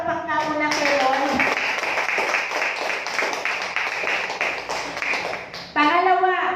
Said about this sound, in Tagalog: Sa malakas na palakpak na muna kay Lord.